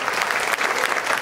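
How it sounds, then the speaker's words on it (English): Brief burst of dense audience applause at a dance ballet program, steady and fairly loud throughout with many hands clapping together. "Please, one more round of applause."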